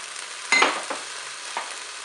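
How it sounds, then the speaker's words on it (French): Bell pepper strips, tomato pieces and olives stirred together in a Cookeo multicooker for a Niçoise-style chicken and potato dish; one firm scrape followed by two lighter ones over a soft steady background, no talking. "On mélange tout ça."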